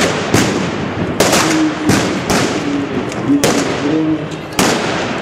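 Sharp gunshots crack out one after another at irregular intervals during a historical battle reenactment, each with a booming echo, while voices murmur faintly underneath.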